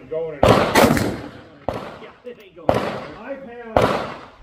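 Gunfire at steel plate targets during a shooting contest, with four loud, sharp reports spaced about a second apart, each followed by a ringing tail, heard close by under people talking.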